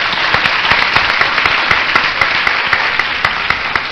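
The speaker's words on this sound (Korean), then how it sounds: "다시 한번 뜨거운 박수를 부탁드리겠습니다" Loud, dense applause from a live audience at a public radio broadcast, MBC's Starry Night, a steady wash of many hands clapping close and continuous throughout, with no speech over it.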